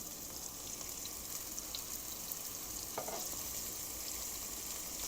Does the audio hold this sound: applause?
no